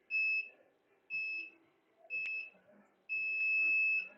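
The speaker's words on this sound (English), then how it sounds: "It's a timer." A workout interval timer sounds during a loop resistance band session: three short electronic beeps about a second apart, then one longer held beep, fairly faint in a quiet room.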